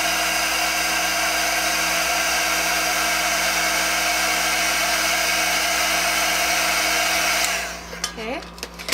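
An embossing heat tool blows a steady, high whining whir while heat-setting glitter embossing powder, running continuously before switching off and spinning down with a falling whine.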